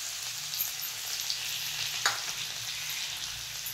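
Garlic dropped into hot oil already holding cumin seeds sizzles in a pan as a village-style jhunka is cooked, a steady close frying hiss with a brief clink of stirring midway.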